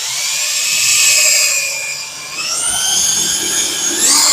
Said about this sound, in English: So what you do is you drill a hole.